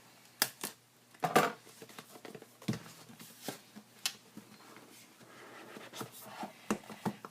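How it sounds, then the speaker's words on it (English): Lenovo portable's packaging seal being broken open by hand, a run of sharp crackling tears and snaps, close and fairly quiet, with brief rustling between the bursts and no talking. "we've got a nice little seal over here that we can break"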